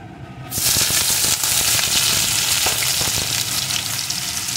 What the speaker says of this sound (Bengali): এখন এর ভিতরে দিয়ে দেবো একটা পেঁয়াজ কুচি।